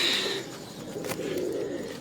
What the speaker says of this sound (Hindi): ये देखिए भोरे खा रहे हैं कबूतर।